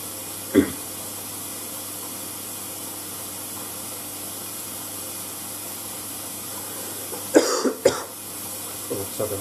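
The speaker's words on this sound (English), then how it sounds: "I've got a cough, by the way." A few short coughs, one early and a cluster later, over a steady background hiss from a running Blomberg WNF9448 washing machine.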